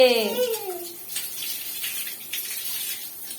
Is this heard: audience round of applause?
no